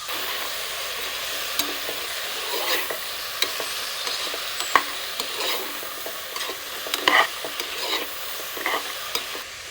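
Vegetables for a coconut veg pulav fry in a pan with a continuous bright sizzle, punctuated by scattered clinks and scrapes of stirring, close and alone.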